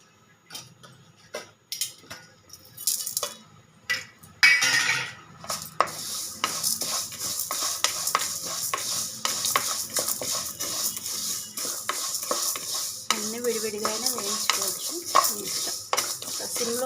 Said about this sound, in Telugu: ఇవన్నీ నీట్గా వేయించుకుందాం డ్రై రోస్టే అన్నీ నూనె వేయట్లేదు